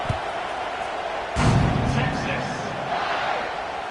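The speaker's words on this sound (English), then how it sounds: "that last score took a little oomph out of this crowd." Football stadium crowd in the NCAA 26 video game, a steady roar of spectators that swells after a thud, with a commentator's voice over it.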